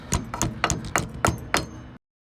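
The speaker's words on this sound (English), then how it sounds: "Pound it with a hammer." A hammer pounds on a trailer brake hub, six sharp metallic strikes in an even rhythm about a third of a second apart. The strikes are close and loud, then stop abruptly.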